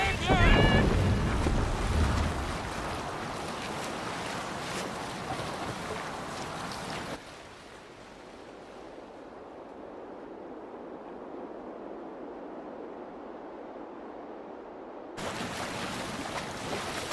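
A Viking longship under sail in Assassin's Creed Valhalla, with a rushing wash of wind and water that starts loud, drops to a softer hiss, then swells again.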